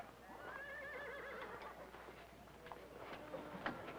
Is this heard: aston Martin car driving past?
no